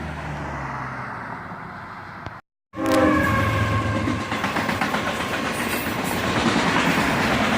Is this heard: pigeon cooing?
no